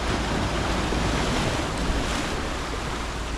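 Sea waves crash and churn against the shore below a seaside staircase at Playa Blanca on Lanzarote, a steady, loud roar of surf mixed with wind buffeting the microphone, with no voices.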